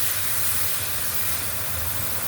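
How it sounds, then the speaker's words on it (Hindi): Masala frying in hot oil with soaked ingredients added, giving a steady, loud hiss like steam under a low rumble, continuous with no talk. "अब मसाला हम इसको भूनेंगे"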